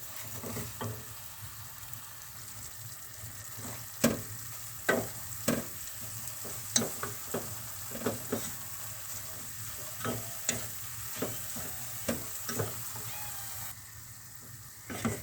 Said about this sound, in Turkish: Şimdi bir su bardağı toz şeker ilave ediyorum. Yine karıştıracağım arkadaşlar. Sürekli karıştırıyorum.